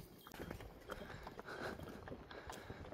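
Donkeys walking along a road, hooves clip-clopping in a steady uneven rhythm, moderately close over a background of outdoor noise.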